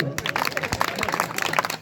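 A lecture audience breaks into brief, scattered clapping, a short burst of uneven applause from a crowd.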